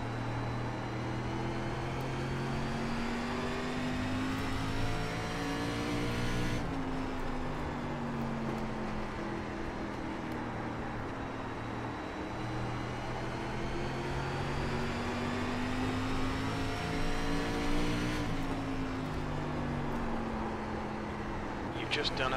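An SRX race car engine in iRacing at IRP drones and rises in long, smooth pitch sweeps through gears, holding a steady loud hum that dips and climbs again each lap segment, with someone talking over it.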